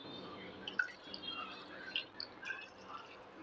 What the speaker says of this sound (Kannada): ಇವಾಗ ನಾನು 1 ಗ್ಲಾಸಷ್ಟು ನೀರು ಹಾಕ್ತೀನಿ